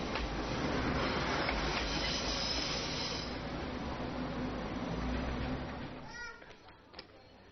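A train rumbles along the railway tracks at Shifen station in Taiwan, steady rolling noise with wheel squeal that fades out toward the end, leaving quieter surroundings and a few faint clicks.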